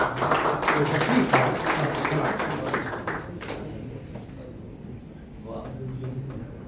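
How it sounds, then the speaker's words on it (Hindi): An audience at a Grand Literary Evening of Urdu poetry in Doha, Qatar claps in a dense burst of applause that fades after a few seconds, with someone speaking into a microphone over it. "आप हज़रात की ढेर सारी तालियों में हम जनाब आसिफ शफ़ी से इल्तिमास"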